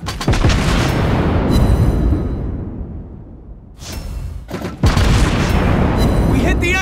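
Guns and torpedoes firing from a Tier 10 USA cruiser, the Des Moines, in World of Warships Blitz: loud booming salvos at the start and again near the end, with a quieter gap between them.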